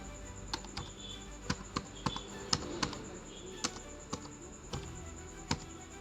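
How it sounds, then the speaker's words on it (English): Typing on a computer keyboard, around a dozen distinct key clicks in an uneven rhythm, close but quiet, with no talking. "I'll just type a working man"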